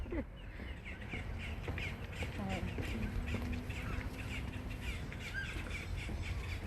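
Several crow-like birds caw and squawk back and forth in a wetland preserve during a spring outing, the harsh calls repeating over steady outdoor background noise.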